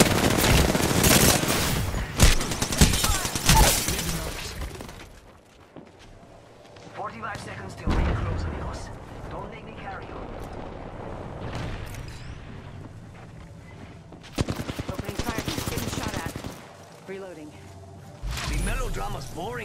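Bursts of rapid gunfire from enemies shooting at the player in a video game, loud clusters at the start and again near the end, with a player talking between volleys.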